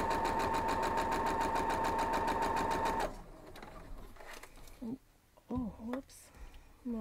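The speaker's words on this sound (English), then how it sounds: "And then we're just gonna sew this back up," A sewing machine stitching quilt block pieces runs in a fast, steady whirring rhythm for about three seconds, then stops, and a person talks afterward.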